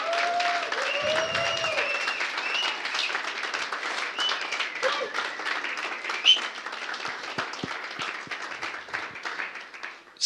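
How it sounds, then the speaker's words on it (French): A conference crowd at the closing keynote of Clever Cloud Fest applauds an event organizer with a sustained round of clapping over ten seconds, a few voices calling out near the start. "je pense qu'il mérite un très très grand tour d'applaudissements"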